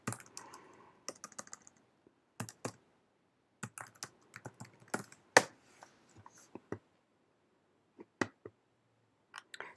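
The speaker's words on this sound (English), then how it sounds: "I'm going to just type in the font." Typing on a computer keyboard to enter a font name in Cricut Design Space: irregular bursts of sharp key clicks, some in quick runs and some spaced out, close and fairly quiet with no talking.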